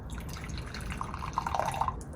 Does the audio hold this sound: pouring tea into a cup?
yes